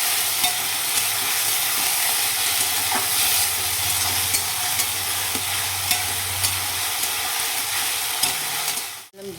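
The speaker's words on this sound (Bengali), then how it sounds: "এটা দিয়ে সুন্দরভাবে কষিয়ে নেব মশলাটা" Masala of tomato, green chilli and ginger paste sautéing in a pan, a steady close sizzle with repeated stirring scrapes throughout, ending in a brief clatter.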